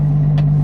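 A BMW 135i tuned to 750 hp idles with a steady low drone and a noise from the engine's bottom end, close and loud for under a second, with one brief hiss partway through.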